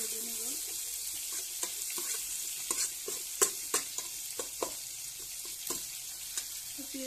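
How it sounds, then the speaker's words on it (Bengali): Chopped onion fries lightly in a pan for a catfish and vegetable curry, a soft steady sizzle broken by repeated clicking stirs and scrapes of the spoon against the pan. "পেঁয়াজ একটু হালকা ভেজে নিচ্ছি"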